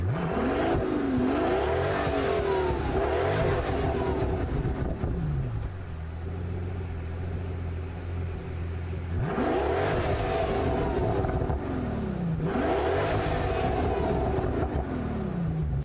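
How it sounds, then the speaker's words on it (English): A 2013 Pagani Huayra's twin-turbo V12 in Gran Turismo 7 revs hard in repeated climbing sweeps, drops to a rumbling idle, then screams up through the gears again, loud and close. "this car makes such a symphony of noise because it is powered by a twin turbocharged V12"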